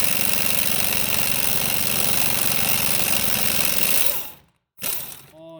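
A heavy-duty impact gun on a 21 mm flex socket with a 10-inch extension hammers continuously at a control arm bolt on a 2010 Nissan Rogue, loud and close, then cuts out abruptly with a short burst afterward.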